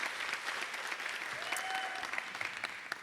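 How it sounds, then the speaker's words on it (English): Sustained applause from the Miss Virginia Volunteer 2025 pageant finals-night audience, dense steady clapping throughout at a fairly even level. "Let's give a warm round of applause"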